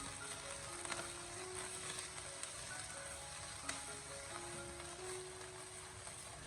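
Garlic scapes stir-fried in a wok over high heat give a faint, steady sizzle with occasional scraping clicks from the spatula, while soft background music plays beneath.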